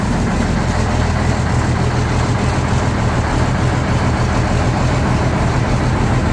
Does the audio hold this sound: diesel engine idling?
yes